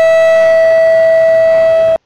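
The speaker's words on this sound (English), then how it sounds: "The emergency siren means one thing, a plane is down." A loud, steady single-pitch airport emergency siren wails for about two seconds without variation during a crash drill, then cuts off abruptly.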